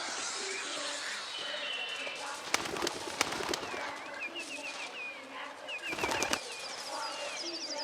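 Birds caged in a bird shop coo and call at a distance, with sharp wing flaps and rustling bursts now and then over a faint room background.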